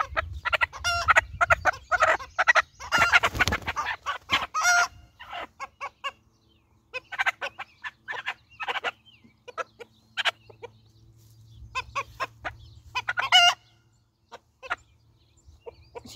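American Bresse hens cluck and call in bursts, some near and loud, others softer, with a low steady hum underneath and short quiet gaps between calls.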